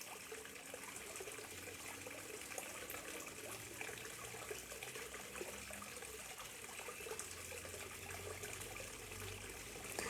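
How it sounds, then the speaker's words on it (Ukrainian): Water trickling steadily into a garden pond beside a terrace, a soft continuous babbling and splashing at even level throughout, with no voices. "Трішечки помовчу, а ви послухаєте, як е, журчить ось цей, е, ця водичка."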